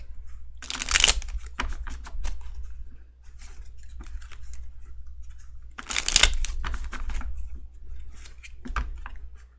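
Tarot cards shuffled in a cramped space, two bursts of riffling around one and six seconds with lighter card taps and handling clicks between, close and moderately loud, with no talking.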